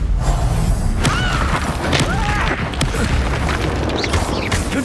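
Confringo explosive spells blast repeatedly in the video game Hogwarts Legacy, loud booming impacts and crashing debris layered over a dense, roaring battle soundscape.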